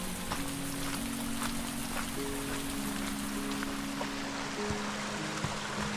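Steady rain falls on a forest trail at Sol Duc Falls in Olympic National Park, Washington, a continuous dense patter with a low steady hum beneath, even and unbroken throughout.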